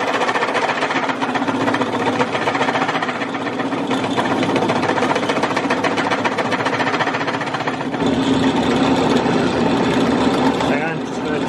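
A drill widens a pilot hole to half an inch while building a mallet, droning steadily and loudly with a buzzing vibration from start to finish.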